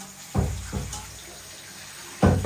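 Tap water runs in a kitchen sink while green beans are washed, coming in short separate bursts of splashing with quieter running flow between them, fairly close and with no talking.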